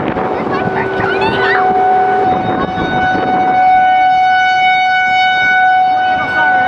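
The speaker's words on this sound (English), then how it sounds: "There's a tornado siren right there." A tornado siren wails with steady, sustained tones beside a highway on-ramp to 77 during a March 2021 storm chase, loud against wind noise, with brief talk at the start.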